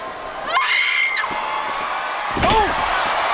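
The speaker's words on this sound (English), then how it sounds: "You heard the primal scream." A female wrestler's high, drawn-out primal scream rises twice over a loud arena crowd during a women's wrestling match, the second cry joined by a slam-like impact, with commentator voices underneath.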